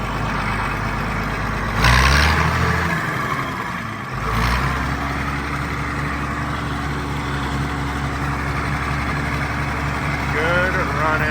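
A low, steady old Oliver diesel tractor engine drones and chugs throughout in fourth gear, loud and close, with a brief surge in the first few seconds.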